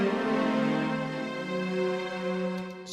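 Bowed strings sustain a diminished triad chord, the held tones blending into a slightly dissonant, steady sound with no other noise around them.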